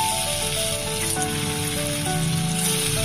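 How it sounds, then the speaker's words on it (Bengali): Marinated tofu pieces fry in a wide pan, giving a steady, crackling sizzle that stays close and continuous throughout, with no speech. "এই দেখুন দিয়ে দিচ্ছি আমি টোফুগুলো একটা একটা করে"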